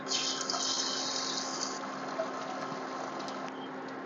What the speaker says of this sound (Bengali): এই ডিমটাই দিয়ে দেব কড়াইয়ের মধ্যে